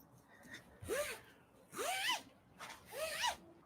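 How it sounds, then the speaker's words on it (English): A large, durable zipper on a backdrop is pulled in three separate rising zips, each a short rasping sweep, close and fairly quiet in a still room with no talking. "Look how durable this zipper is."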